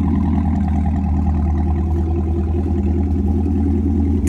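A Chevrolet Camaro SS 1LE with a damaged exhaust after a rear-end collision runs at a steady idle, giving a loud, constant low rumble with no revving.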